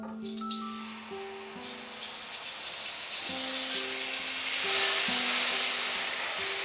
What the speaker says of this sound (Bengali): ফোড়নটাকে ফ্রাই করে নেব মিডিয়াম আঁচে 15 থেকে 20 সেকেন্ড।